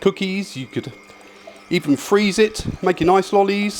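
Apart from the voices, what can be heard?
No everyday noises stand out.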